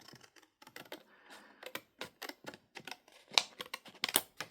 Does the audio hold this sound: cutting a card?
yes